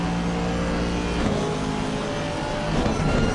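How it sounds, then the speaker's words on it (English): Aston Martin race car engine in Assetto Corsa Competizione at Snetterton, a steady loud drone with sustained harmonic tones throughout, no talk over it. "Just listen to that Aston Martin."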